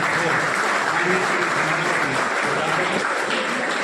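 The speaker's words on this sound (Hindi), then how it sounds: "जोरदार तालियों के द्वारा स्वागत हो" Loud, sustained applause from a crowd at a school sweater distribution ceremony, steady clapping filling the whole moment without pause.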